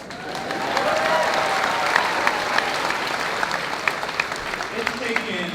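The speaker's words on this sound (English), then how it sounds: "You can applaud, that's okay." Steady audience applause at a high school graduation ceremony, a dense wash of clapping across the whole stretch with scattered louder claps and faint voices underneath.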